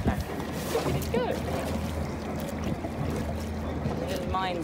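A small boat is rowed on open water near Nuku Hiva. Oars splash and water churns close by in a steady rhythm, with wind and a voice speaking briefly over it.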